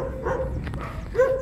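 A puppy yips and barks a few times up close, two short high-pitched barks with a soft whine between them.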